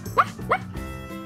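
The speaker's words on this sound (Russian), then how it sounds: "Собачка милая." A small dog gives two quick, high yipping barks close by, followed by a short sustained tone.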